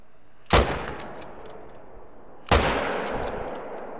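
Two loud, sharp hunting rifle shots in The Hunter: Call of the Wild, fired at a reindeer, each cracking hard and then fading slowly into an open-air echo, about two seconds apart.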